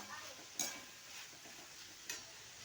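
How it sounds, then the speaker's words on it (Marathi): A spoon stirs turmeric and coriander powder into food in a pan, giving a quiet, low sizzle with two distinct scraping clinks against the pan spaced about a second and a half apart. "त्यात थोडंसं मी धना पावडर टाकणार आहे आणि ते पण छान असं मिक्स करून घ्यायचं"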